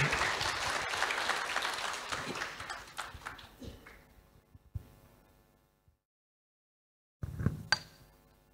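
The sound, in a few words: applause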